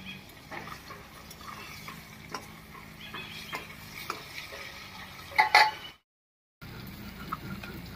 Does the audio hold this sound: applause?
no